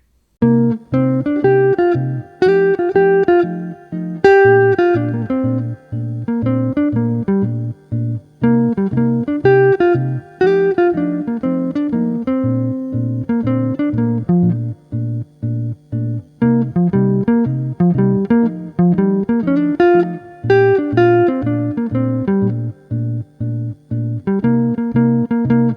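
An electric guitar improvises melodic major pentatonic lines over a 2-5-1 backing track with a steady repeating bass and chords. The loud, continuous playing breaks only for brief pauses between phrases.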